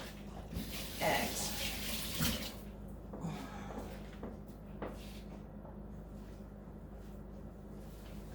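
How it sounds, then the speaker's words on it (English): Tap water runs into a kitchen sink as hands get a quick wash partway through mixing a pineapple upside-down cake batter, a steady close splashing hiss with a few knocks and a brief spoken word. "let me give my hands just a little quick wash since I've touched"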